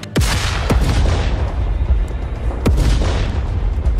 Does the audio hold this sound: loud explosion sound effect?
yes